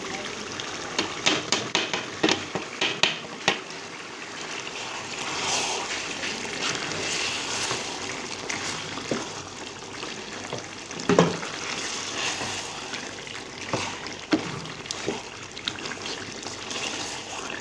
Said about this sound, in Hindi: अब हम इसमें डाल देंगे सारे मसाले।